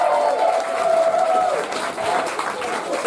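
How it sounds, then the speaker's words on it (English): A crowd gives a round of applause welcoming a slam poet to the stage, a sustained wash of clapping with cheering, under a voice that carries over the top. "Nice round of applause."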